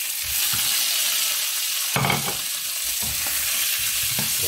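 Shrimp are tossed into a pan of tofu sautéing in oil, where a loud, steady sizzle runs throughout and brief stirring scrapes and clatters break through over it.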